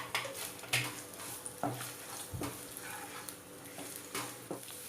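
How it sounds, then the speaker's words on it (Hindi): Ginger and slit red chillies frying in hot oil, a soft steady sizzle broken by several clinks and scrapes of a spoon stirring in the pan, fairly quiet and close. "ये आप देख सकते हैं हमारा अदरक और जो लाल मिर्ची है वो फ्राई होने लगी है।"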